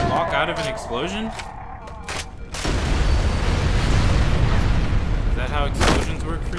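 An explosion in the Halo: Combat Evolved video game erupts into a loud, sustained roaring rumble after a voice speaks, with sharper bursts near the end.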